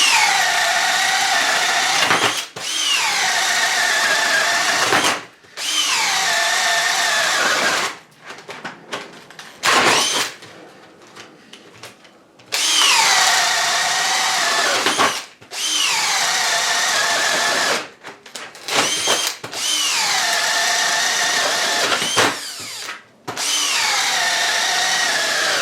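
A cordless brushless drill bores with a 3/4 inch bit at speed 2, loud whining bursts of several seconds each, repeated about six times with short pauses and a rougher stuttering stretch in the middle.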